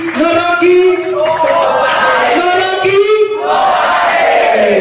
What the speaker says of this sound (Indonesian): Tepuk tangan buat Bang Rocky.